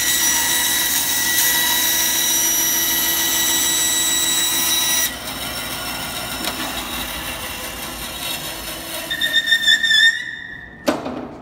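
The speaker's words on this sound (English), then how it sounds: "I'm letting the saw do the cutting. It's a new blade, and we don't need to go fast with this." A power saw fitted with a new blade cuts slowly through a piece with a steady, loud whine. The tone shifts partway through, and a few rattling knocks come as the cut finishes.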